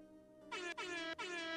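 An air horn fired from a soundboard, three loud blaring blasts in quick succession, each with a short gap, alone without talk.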